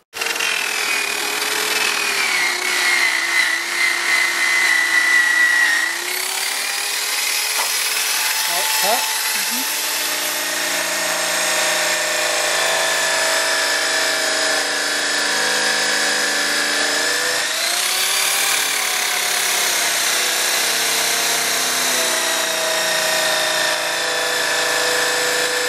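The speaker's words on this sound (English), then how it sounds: "ready for the second cut with the white buffing compound" A power buffer whines steadily against an aluminium caravan body loaded with white buffing compound, a loud continuous motor tone that shifts pitch as pressure changes.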